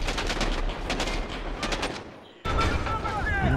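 Rapid automatic gunfire in Call of Duty Modern Warfare, close and loud bursts of shots rattling continuously, with a short lull before the firing resumes sharply.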